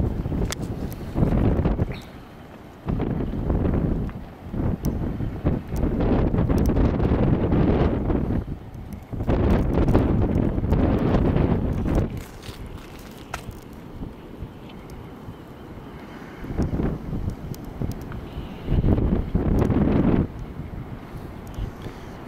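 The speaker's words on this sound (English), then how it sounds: "Winds are blowing down canyon about 15." Wind blowing down a canyon during the 2009 Station Fire, striking the microphone in loud, buffeting gusts that are broken by short lulls.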